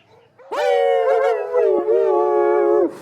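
Human voices imitating dogs howling in a song, a loud sustained howl-like tone rising in at the start, holding with slight wavers and a brief dip, then cutting off.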